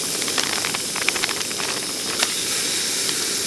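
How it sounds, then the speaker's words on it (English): Sausages sizzle in a hot pan over a backpacking stove, a steady close hiss with small crackles and pops throughout. "So I'm going to cook up some sausages."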